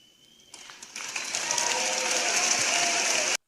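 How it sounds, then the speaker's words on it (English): A crowd bursts into applause and cheering, the clapping swelling quickly from quiet to a dense, loud wash before cutting off abruptly. "And the crowd goes wild."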